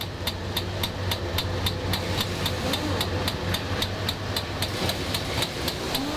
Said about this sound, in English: You hear that hydraulic pinging its stress pretty good